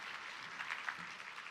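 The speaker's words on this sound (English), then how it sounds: "Let's give Saul a round of applause for everything today." An audience at a cruise industry general session applauds for a speaker. The clapping is brief, soft and steady and sounds somewhat distant.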